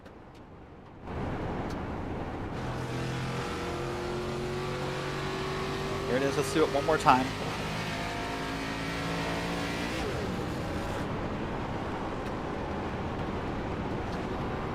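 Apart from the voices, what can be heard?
race car engine revving at Rockingham, sim racing video game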